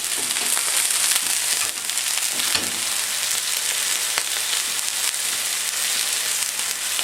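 Flank steak sears in a hot pan, giving a loud, dense, continuous sizzle and crackle close up that holds steady throughout, with no talking.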